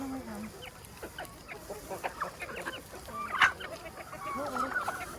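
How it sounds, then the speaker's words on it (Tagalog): A flock of chickens clucks and murmurs continuously at a farm, with many overlapping calls nearby and a few louder squawks standing out from the steady chatter. "So many chickens."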